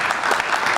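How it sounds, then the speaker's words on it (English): Audience applause breaks out at a tech conference session, a short burst of many hands clapping briefly and fairly close. "You can clap now."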